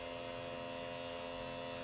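An airbrush machine sprays acetone through itself for cleaning, giving a steady, even buzzing hiss that holds unchanged throughout at low loudness.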